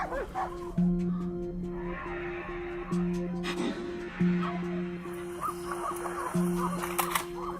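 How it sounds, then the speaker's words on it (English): Hunting dogs bark at the edge of a cornfield during a wild boar hunt in icy Texas, with several loud, evenly spaced barks over a droning background hum and scattered rustling. "Within 5 minutes, their barks erupt at the field's edge."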